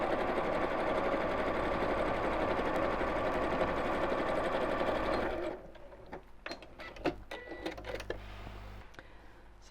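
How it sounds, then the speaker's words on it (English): Sewing machine stitches a tote bag in a fast, steady whirring run for about five seconds, then stops, leaving a few faint clicks and handling sounds. "Needle down when we get to the corner, and sew back down again."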